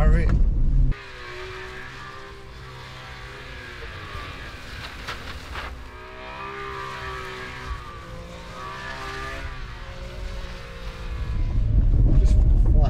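A car engine revs and drones as it is swung around and powered through 360 spins, with rising and falling engine pitch, a sudden loud burst at the start and building roar at the end, under some voices.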